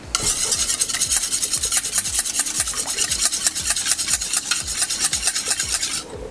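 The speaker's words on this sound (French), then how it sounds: "On va commencer à fouetter ça." Vinaigrette emulsion of Dijon mustard and vinegar whisked briskly in a bowl, a fast, even rhythm of scraping strokes close up for about six seconds before stopping, with no talking.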